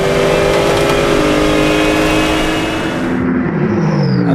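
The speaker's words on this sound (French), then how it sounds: "le pilote de la Renault RS01 d'AB Autosport dépasse la Mercedes de Race TV" A Renault RS01 race car roars past a Mercedes at Magny-Cours, a loud, sustained high-revving engine note close by that drops away slightly as it passes.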